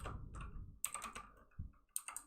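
Quick bursts of typing on a computer keyboard, irregular clicks and clacks with short pauses between them, close and fairly quiet with no voices.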